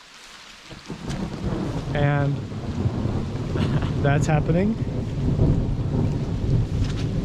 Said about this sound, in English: So it's about to thunder.